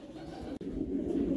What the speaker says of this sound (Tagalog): Yung tatlong ibon na dumating sa atin, lahat nakapuling yan.